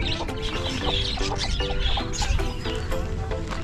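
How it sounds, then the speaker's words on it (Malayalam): Chickens cluck and chirp in a park enclosure that also holds ducks, a steady flock chorus with repeated short calls, fairly close and continuous with no talking. "ഇതിനകത്ത് മൊത്തം കോഴികളാണ്."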